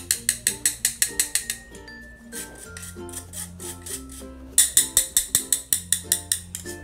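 A hand-cranked flour sifter being turned, giving rapid rhythmic ratcheting clicks in two bursts with a short pause between them, loud and close with no talk.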